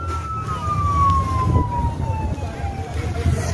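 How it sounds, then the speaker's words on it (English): A wailing ambulance siren sweeps downward steadily over a low rumble of road traffic in Montego Bay, Jamaica, fairly loud and close. "Ambulance coming."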